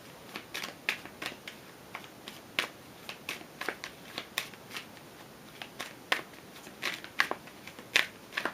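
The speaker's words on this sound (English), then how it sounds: "I do shuffle these cards beforehand." Tarot cards are shuffled with sharp, irregular snaps and riffles, close up and quiet, continuing steadily without any talking.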